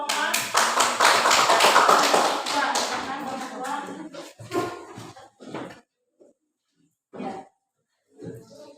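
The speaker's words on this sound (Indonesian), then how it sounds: "tepuk tangan untuk kelompok 4" A group of people clapping hands for a classroom team during a coaching session, a dense burst of applause at first that breaks into scattered, sparse claps with pauses between them.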